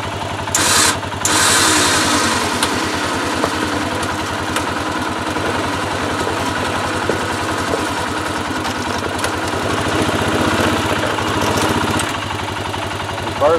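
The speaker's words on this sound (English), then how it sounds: "volunteered to use his vehicle as a weight and a pull" A vehicle engine runs steadily with a low rhythmic idle-like drone while its truck serves as the weight and pull on a braided steel cable hooked to a winch, loud and close throughout, with brief clanks near the start.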